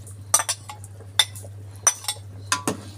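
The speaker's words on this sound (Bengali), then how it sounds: "নাড়াচাড়া করব যাতে বিরিয়ানিটা খুব সুন্দর হয়।" A spoon stirs prawn biryani in a pot, with several sharp clinks of metal against the pot spaced irregularly over a quiet, steady low hum.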